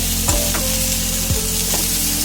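Eggplant frying in a little oil, a dense close sizzle held steady over a low background hum, with a couple of brief utensil scrapes.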